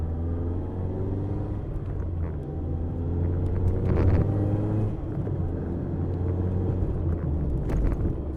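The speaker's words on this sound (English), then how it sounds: "Straight away I can hear the sound tube bursting into life" Mazda MX-5 ND engine fitted with a CleaR Motorsport sound tube, a steady low droning rumble from inside the car that swells briefly around the middle before settling back to an even hum.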